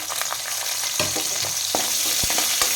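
Onion and green chili frying in a pan with crab fat, a steady bright sizzle with occasional spoon taps and stirring knocks, close and fairly loud.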